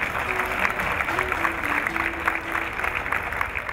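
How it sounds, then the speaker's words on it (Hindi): Audience at a mushaira poetry gathering claps in a steady, dense wash of applause, with faint voices murmuring underneath. "आपकी भरपूर तालियों में मैं दावत देती हूँ सलीम अख्तर साहब को।"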